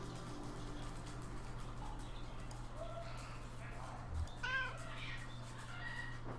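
A cat gives a single short greeting meow partway through, close and clear over a steady low hum and faint ambient rustle.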